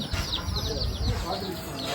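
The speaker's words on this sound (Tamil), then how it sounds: "அடுத்து கோழி குஞ்சுங்க" Many chicks peep and cheep in a continuous chorus close by at a bird park, with someone talking over them.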